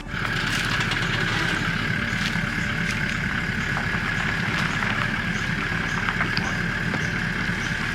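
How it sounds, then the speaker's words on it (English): A vehicle engine idles and hums steadily as it backs slowly away from a tree, with a constant low drone and no one talking. "All right, you watch that as I back drive out."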